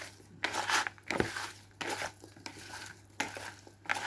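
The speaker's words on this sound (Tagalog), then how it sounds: "Tapos mix natin." Chicken with okra, salt and olive oil being stirred and mixed in a pan, with scraping, clattering bursts in uneven rhythm, fairly close.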